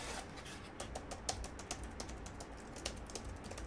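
Typing on a Jelly Comb keyboard, a steady run of light, close keystroke clicks and taps at an uneven rhythm, with no talking.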